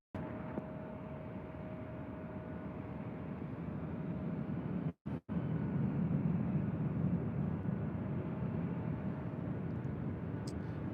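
A Delta airliner taking off from runway 24 left at LAX gives a steady, distant broadband roar of jet engines that holds for about eleven seconds, broken only by a brief dropout midway.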